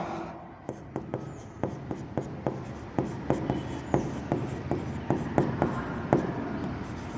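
A teacher writes an accounting entry, likely chalk or marker on a board, in a steady series of short scraping strokes with small pauses, close and moderately loud, with no talking.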